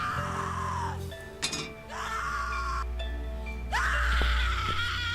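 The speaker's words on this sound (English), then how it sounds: "A rusty metal locker. Let's open it quietly." Rusty metal locker in The Cat Lady video game being opened, with grinding metallic creaks and clinks, a sharp clank partway through, and drawn-out scraping squeals, loud and close.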